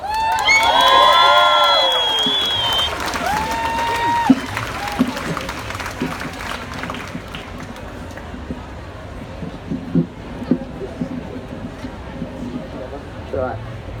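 A crowd at an International Women's Day event in Melbourne cheers, whoops and applauds loudly at first. The noise then fades to scattered clapping and murmur.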